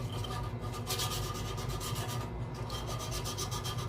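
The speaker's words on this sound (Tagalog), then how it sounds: "Kaya ginagamitan natin ng liha." Sandpaper scrubs a rice cooker pot to remove blackened residue, producing a continuous gritty rasp in quick back-and-forth strokes, close and steady.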